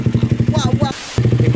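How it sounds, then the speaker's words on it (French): A KTM 125 motorcycle with an Akrapovic exhaust fires up close by in rapid, throbbing engine pulses, drops out for a moment, then picks up again. "Donc on va vous le faire démarrer, vous allez écouter le bruit"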